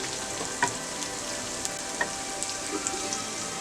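Capsicum stir-fried with a pinch of salt in a pan for an egg masala fry, giving a steady close sizzle with a few soft scrapes of the spatula and no talking.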